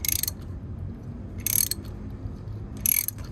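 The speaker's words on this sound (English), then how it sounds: "to slowly work to push that pin through the rivet" A chain tool pressing a rivet pin through a Suzuki DR650 motorcycle chain, three short metallic ratcheting bursts at roughly even intervals over a low background hum, close, no talking.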